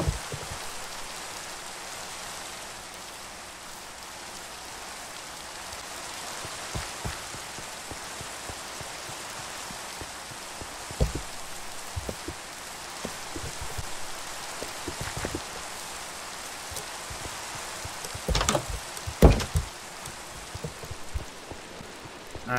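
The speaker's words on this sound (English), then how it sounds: "it's raining again." Steady rain in the video game Minecraft hisses without a break, with scattered heavier drops and a few sharp taps, especially near the end.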